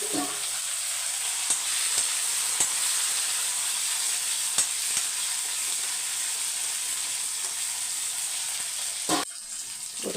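Eight dried red chilies and small shallots fry in hot oil in a pan, a loud continuous sizzle with frequent stirring clicks and scrapes, ending with a brief clatter, no one speaking.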